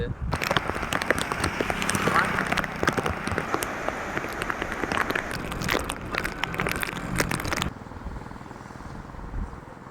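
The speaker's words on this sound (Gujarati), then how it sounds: "ફૂલ વરસાદ આવી રહ્યો છે" Dense, heavy monsoon rain pouring down near a flooded temple, a loud continuous patter with sharp crackly hits, ending abruptly into quieter background near the end.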